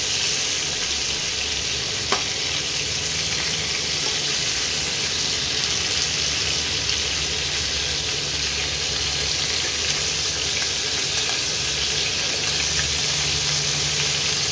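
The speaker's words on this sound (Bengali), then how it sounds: "আমি কাঁকড়াগুলো ভেজে নিই, তোমাদের দেখাচ্ছি।" Crabs fry in hot oil in a home kitchen for a spicy crab dish, a steady loud sizzle with occasional stirring scrapes and pops, no voices.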